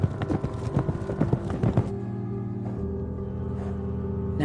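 Mustang horses' hooves clop in a quick, uneven patter on hard ground for about two seconds, then fade under a steady tonal background.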